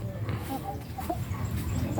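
Silver penciled rock chicken recovering from feed poisoning, giving short soft clucks in a quiet farm setting, a few brief calls close to the listener over low background noise.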